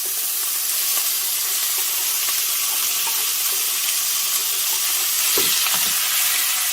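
Chicken cubes, red pepper and a small onion fry together in a pan, giving a loud, steady, close sizzle with faint stirring scrapes.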